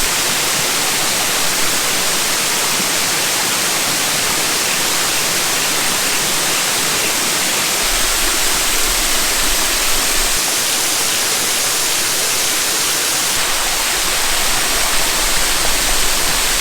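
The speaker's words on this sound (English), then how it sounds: "Came down into the lower section of the fall here in between these two rocks" A waterfall pours between two rocks into the lower section of a circular pool, making a loud, dense, unbroken rushing roar with no voices.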